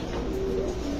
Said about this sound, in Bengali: হোয়াইট রেসার কবুতর।